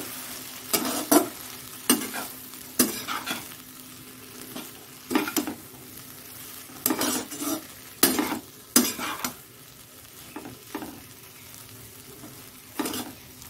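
Potatoes and yardlong beans frying in very little oil, with a sizzle that comes and goes and several sharp bursts of stirring and clattering from a utensil against the pan.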